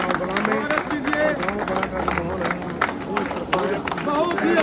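A crowd in the village of Balla applauds to welcome a Congress leader. Dense clapping runs under loud speech and crowd babble.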